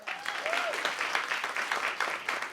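A story slam audience claps together, a steady patter of applause throughout, fairly close and sustained without any talking.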